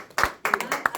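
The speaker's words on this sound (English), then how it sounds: "Let's applaud those people." An audience at a book signing gives a brief burst of clapping, a few sharp, separate claps close together over about a second, fairly quiet, with no talk over them.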